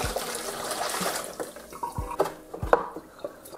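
Water tipped out of a MiiXR electric vortex shaker bottle after a rinse, a brief splashing pour with a couple of sharp knocks and drips against quiet room tone, close by.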